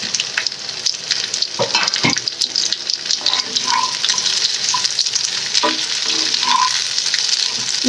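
Okra (bhindi) fries in smoking hot mustard oil over a high flame, giving a loud, steady, close sizzle with occasional stirring clatter and no talking.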